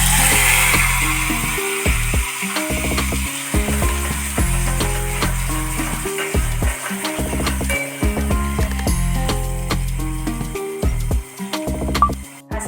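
Tomato, garlic and chili paste tempers in ghee and oil for pav bhaji, with close, steady frying. Clicks and scrapes of stirring recur over a busy crackle, with no talk.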